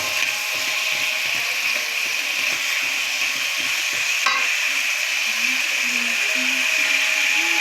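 Potatoes frying in a pan, a continuous hiss of hot oil with clicking scrapes and stirring noises throughout, close and fairly loud, no talking.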